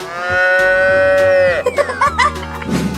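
A long, loud cow moo in an Animal Crossing-style video game, held steady for over a second, then a fast string of short bubbly chirps and game effects.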